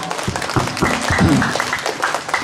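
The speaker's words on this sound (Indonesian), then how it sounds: "Tepuk tangan buat kita semua Bapak Ibu ya." Audience applause at a district social services event in Lampung Tengah marking Elderly Day, a moderate, steady patter of clapping lasting a couple of seconds with some voices mixed in.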